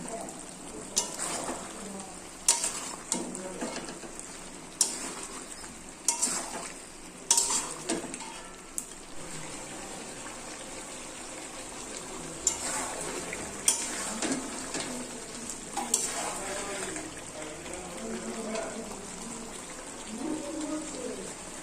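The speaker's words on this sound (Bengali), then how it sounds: "একবারই আমি আলুটাকেও দিয়ে দিলাম, একবারে কষবো" Meat curry with spices and potatoes being sautéed in a pan, a quiet steady sizzle broken by repeated scraping and stirring clatters from a spoon against the pot, with a voice speaking at times.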